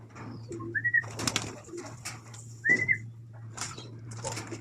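Pigeons coo in soft, short bursts against a low steady hum, with a couple of whistled notes and faint rustling between the calls.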